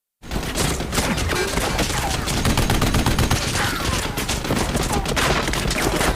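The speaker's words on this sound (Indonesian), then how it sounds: "untuk menembaki Korpi menggunakan senapan otomatis" Rapid, continuous gunfire rattles on for several seconds, dense overlapping shots from an automatic rifle filling the scene at steady loudness.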